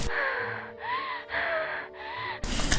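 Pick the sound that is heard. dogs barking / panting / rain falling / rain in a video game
panting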